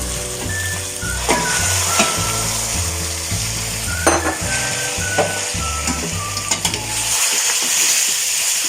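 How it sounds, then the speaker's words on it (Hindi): Mutton fries in ginger garlic paste over high heat, a loud, continuous sizzle with scraping and clinks of a spoon stirring against the pot, fading at the end. "मटन को थोड़ी देर इसमें फ्राई करेंगे।"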